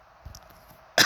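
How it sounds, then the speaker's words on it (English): A single sharp cough bursts out near the end, loud and close, after a quiet stretch with a faint low thump. "had to cough"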